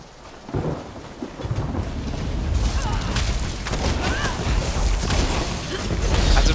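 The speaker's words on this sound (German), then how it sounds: "Es regnet und die Fackeln sind an." Rain and rolling thunder in The Elder Scrolls Online, with steady heavy rainfall and deep rumbling booms building in loudness, filling the scene around a voice talking faintly underneath.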